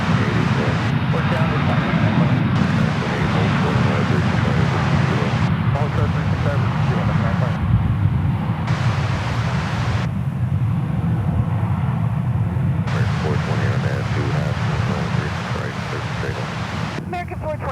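Airliner engines roar steadily through a takeoff at DFW Airport, a loud continuous low rumble with wind buffeting the microphone, while a person talks over it and air traffic control radio chatter is heard.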